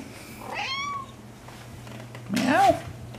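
A cat meows twice nearby, a short meow first and then a louder, longer one.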